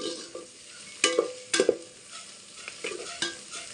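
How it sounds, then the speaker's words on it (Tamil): Green chillies fry in oil for a Tamil goat head curry: a quiet steady sizzle broken by several sharp spoon-against-pan knocks and stirring scrapes, close and clear, with no talk. "பச்சை மிளகாய் இந்த எண்ணெயிலே வதங்கட்டும்."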